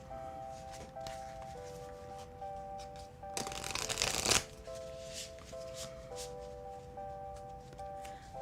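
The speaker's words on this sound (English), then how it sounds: "I am shuffling for you, Grayson." A tarot card deck is shuffled for several seconds in a burst of crisp riffling and slapping, fairly close, set against quiet background tones with no one speaking.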